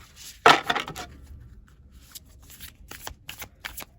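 A deck of tarot cards is shuffled by hand, opening with a loud riffle burst, then giving way to quieter, intermittent card slides and flicks, close up, with no talking.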